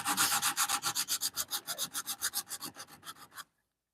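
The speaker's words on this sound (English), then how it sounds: "It sands much more easily than Quickwood." Timbermate wood filler on the foot of a Victorian dresser is sanded by hand in a rapid, even back-and-forth rhythm of close, scratchy strokes that ends abruptly in silence.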